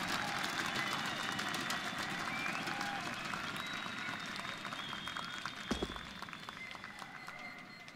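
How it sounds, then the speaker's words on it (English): A large crowd at the ESL One Cologne 2017 CS:GO semifinal between FaZe and SK on Cache cheers and applauds in a steady continuous roar, with a caster talking over it. "With the crowd against him, the cheers coming through"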